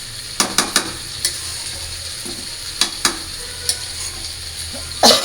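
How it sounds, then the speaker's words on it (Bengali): Meat being stir-fried (kosha) in a pan in a home kitchen gives a steady sizzle under repeated sharp scrapes and clacks of a spatula against the pan, close and clear. "তো এই পাশে মাংসটা কষায় নেই ভালো করে।"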